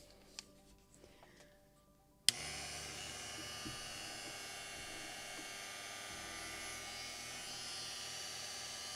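After a few quiet clicks, a small power drill whirs on abruptly and keeps up a steady high-pitched buzzing drone, faint and close, drilling into the wooden hull beams of a model gunboat.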